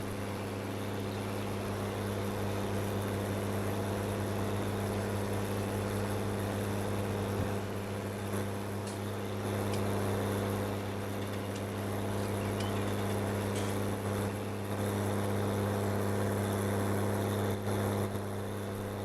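A small tractor's engine in Farming Simulator 19 drones steadily at idle throughout, a low constant hum with no talk over it.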